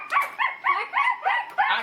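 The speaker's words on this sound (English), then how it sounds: "sounds like dogs" Hound dogs barking inside a barn, six rhythmic yelping barks in quick succession, close and loud with a baying, whimpering edge.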